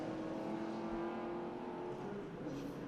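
Vintage Porsche 911 race car number 30 at Indianapolis Motor Speedway during an SVRA vintage race, its engine droning steadily at moderate distance with a faint whirring tone and no talk.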